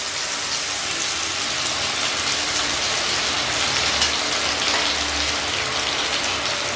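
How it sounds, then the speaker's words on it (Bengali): Ridge gourd and prawn paste fry in hot oil, giving a steady, close, rain-like crackling sizzle that holds evenly throughout with no talking. "এই সম্পূর্ণ মিশ্রণ ভাজা ভাজা করে নেব যতক্ষণ না তেল ছেড়ে আসে"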